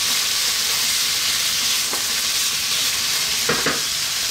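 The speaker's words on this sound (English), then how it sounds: "we're going to drop in our chopped ginger and our chopped garlic, about 1 tablespoon of each" Chopped ginger and garlic sizzle in a hot pan for a pork and beansprout stir fry, a steady hissing fry throughout with a few soft stirring scrapes.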